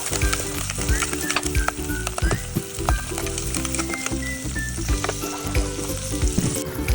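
Sliced onion and garlic sautéing in hot cooking oil in a pan, a loud continuous close sizzle with crackling pops, and the clink and scrape of a utensil stirring among music in the background.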